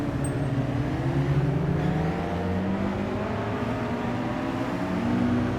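A Honda car engine in Gran Turismo 5 drones steadily with rising and falling harmonic tones, like a revving motor, continuous and fairly loud throughout.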